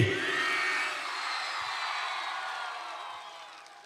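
Loud burst of audience applause and cheering in a hall after a count of three, a dense wash of clapping that starts at full strength and slowly fades over a few seconds.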